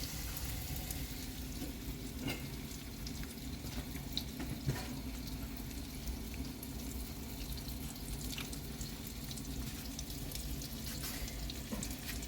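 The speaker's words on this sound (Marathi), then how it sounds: "हे तेल गरम झालंय आणि ह्याच्यात मी आता टाकते." Giant oysters frying in hot oil, giving a steady, continuous sizzle and bubbling with faint scattered crackles throughout, moderately quiet and with no voices.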